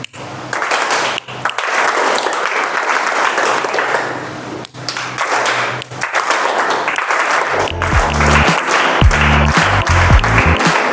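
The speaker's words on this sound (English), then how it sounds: "So you have to clap the moment I snap" A crowd at a club meeting claps together in a group clapping activity, loud dense applause that surges and pauses, joined near the end by rhythmic low tones.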